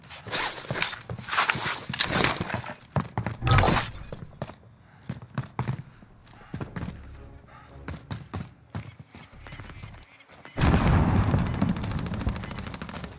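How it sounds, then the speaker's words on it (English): Gunshots crack in Call of Duty Warzone on the Verdansk map, scattered sharp bursts and clattering steps, then a dense sustained roar of fire near the end. "Receiving hostile fire."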